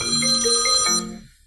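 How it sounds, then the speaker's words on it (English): A mobile phone ringtone plays a bright electronic melody of several sustained tones that ends and fades out near the close, with no talking. "oh, that was my phone going off"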